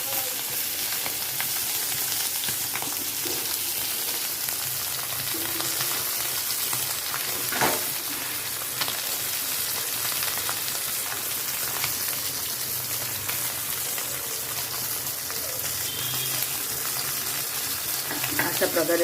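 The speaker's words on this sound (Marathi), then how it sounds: "अशा प्रकारे ना आपण सर्व पापलेट तळून घेऊया" Pieces of pomfret fish deep frying in oil, producing a steady, rain-like crackle and hiss that runs without a break, close and even, with faint stirring knocks.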